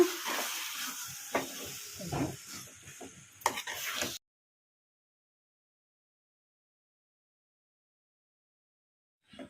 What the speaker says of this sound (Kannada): ನೆನೆಸಿಟ್ಕೊಂಡಿರೋ ದಪ್ಪನ ಅವಲಕ್ಕಿನ ಕಲಿಸ್ಬಿಡೋಣ